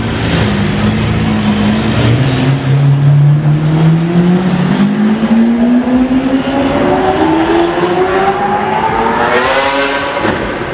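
Straight-piped Lamborghini SVJ exhaust revving up close, a loud continuous roar whose pitch climbs steadily over about ten seconds as the engine winds higher, with no voices.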